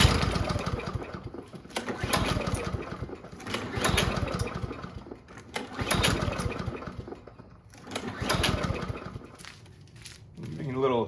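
An old, free back-lane lawn mower's small engine is pulled and cranked repeatedly, each pull giving a short sputtering surge that dies away, with a person talking nearby.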